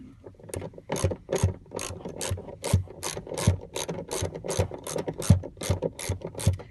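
A hand ratchet clicks in quick repeated strokes while a racing harness bracket bolt is tightened on an EVO 9 MR, each burst of sharp pawl clicks close and distinct with no talking.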